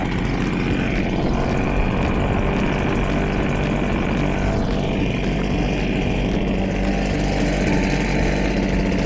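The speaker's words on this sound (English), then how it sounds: "Down the road with the leaf blower." A petrol leaf blower roars continuously outdoors on a warm day, loud and close, with a steady droning engine note and airy rush that briefly shifts pitch as it is swept around.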